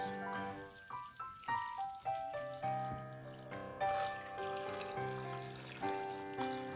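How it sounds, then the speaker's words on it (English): Beef broth and water poured into a cooking pot, a continuous watery splashing and trickling with rising gurgling tones as the liquid fills. "I have 8 cups of liquid here to pour into this."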